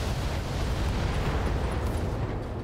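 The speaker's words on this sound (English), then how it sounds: "Ammo explosion." Ammunition cooks off in the mech combat video game BattleTech, a dense, roaring blast with heavy low rumble that sustains loudly for a couple of seconds without speech.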